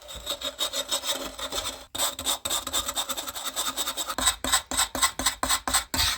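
Gritty rasping scrub, a wet pumice stone rubbed back and forth over a stained toilet bowl in quick repeated strokes, close and fairly quiet.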